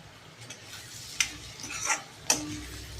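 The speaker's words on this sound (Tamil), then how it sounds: "எண்ணெயிலே வதங்கட்டும்" Pieces of elephant yam sauté in oil with salt for a tamarind curry, a soft continuous sizzle broken by a few sharp spoon taps and scrapes against the pan, heard up close without talk.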